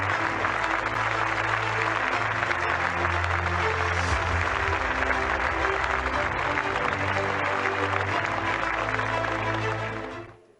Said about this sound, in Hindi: आपकी तालियों के बीच हम स्वागत करें इस महत्वपूर्ण सौगात का।